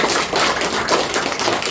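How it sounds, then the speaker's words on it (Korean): A live audience claps together at a talk promoting a shopping mall service, a short burst of dense, steady clapping heard alone. "박수 한번"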